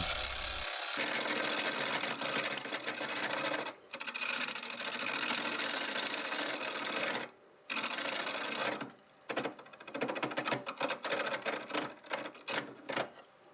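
Wood turning on a lathe with a carbide tool cutting a hard, knotty piece, a loud continuous rasping scrape that cuts out briefly a few times, then returns in choppier bursts near the end.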